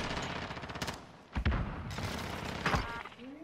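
Bursts of rapid automatic gunfire and sharp shots in the Modern Warfare video game on PS4, loud volleys separated by brief lulls, with no talk.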